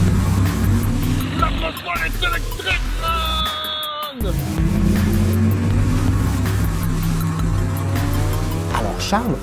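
An electric Formula E race car circles the Montreal circuit, its loud, close motor whine rising and falling in pitch over a continuous roar, with tire squeal and a brief dip as it passes.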